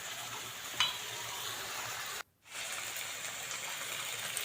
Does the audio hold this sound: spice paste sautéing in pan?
yes